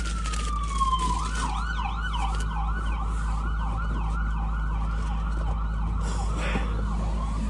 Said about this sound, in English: Let's wait for the ambulance to go by.